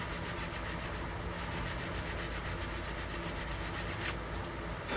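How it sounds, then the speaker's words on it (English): Sandpaper rubs back and forth against a wooden flute block, a close, continuous rasping scrape with steady rhythmic strokes and no talk. "if you see me switch my sandpaper around, it's to get a nice point on the end of it"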